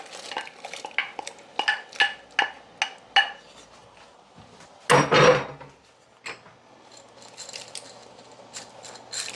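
Gungo peas, garlic and pimento tipped into a cooking pot for Jamaican curry goat: a run of sharp clinking knocks and scrapes of a utensil against the pot, a louder clattering dump midway, then softer sporadic taps, no talking.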